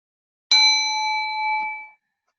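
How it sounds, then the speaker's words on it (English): A single clear strike of a small Tibetan bell, a bright metallic ring with several pure overtones that sustains about a second and a half before fading. "I'm just going to go get my little Tibetan bell."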